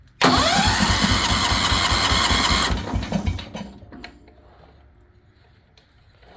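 A small Kohler engine fires up with a sudden, loud start and runs hard for a couple of seconds before sputtering and dying away into quiet, with no voices.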